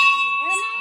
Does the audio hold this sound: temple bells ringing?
yes